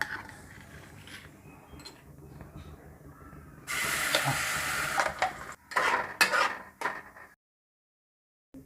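Fig paste ground in milk is stirred and roasted in ghee in a pan for winter gond laddoos, a quiet scraping start giving way to a louder hissing sizzle with spoon scrapes before abrupt silence.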